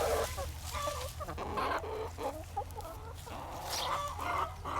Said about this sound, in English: The hens are scooping up everyone they can get.